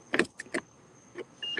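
Someone climbs into a car: scattered thumps, rustles and small clicks from the door and seat, fairly quiet and close, with a faint steady tone in the background.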